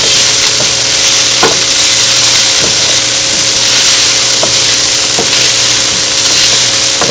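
Food sizzling steadily in a hot pan with occasional sharp scrapes and knocks of a stirring utensil, a continuous close frying hiss throughout with no talking.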